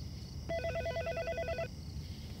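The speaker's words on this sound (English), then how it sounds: "You figure that phone's gonna ring pretty soon, Mr. Jenkins?" A telephone rings with one trilling electronic burst lasting about a second over a low background hum.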